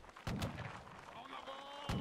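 Cannon fire in the Napoleonic Wars mod of Mount & Blade: Warband, a Waterloo battle, with two booming blasts near the start and one near the end over a busy din of battlefield noise.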